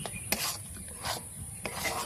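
Lentil mixture with cumin powder, turmeric and salt being stirred and fried in a pan over low heat, a soft continuous sizzling rasp with a few brief scraping strokes of the spatula, fairly quiet, with no talking.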